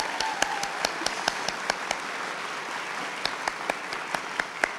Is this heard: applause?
yes